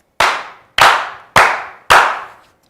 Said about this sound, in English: can we begin by slow clapping this brother into the show?